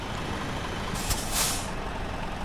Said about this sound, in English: I love the sounds from the truck outside.